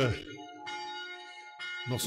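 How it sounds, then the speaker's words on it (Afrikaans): A church bell is rung by hand in two long, sustained peals with a slight pause between them, clear and fairly near, and brief talk sits at either end of the clip. "Mens kan sien Tannie Helen het ou lanklaas klok gelei."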